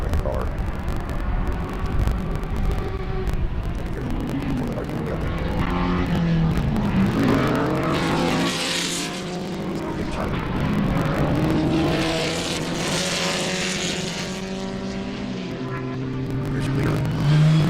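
SCCA club race cars roar past at Sebring, engines rising and falling as they accelerate and pass, with a commentator talking over the racing noise throughout.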